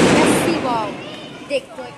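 A sharp firecracker bang with a crackling burst at a Diwali celebration opens the moment, followed by someone speaking over fading outdoor noise.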